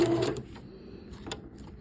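Close, brief stitching bursts from a sewing machine sewing fabric along a circular line, a short run at the start followed by quieter intermittent whirring and clicks.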